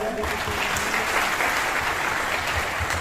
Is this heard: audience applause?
yes